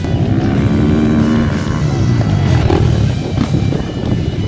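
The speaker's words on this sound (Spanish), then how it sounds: "ahora sí prendió la moto" A motocross motorcycle engine runs loudly after being started at a motocross race in Chincha, Peru, with a steady rough drone mixed with crowd and outdoor noise.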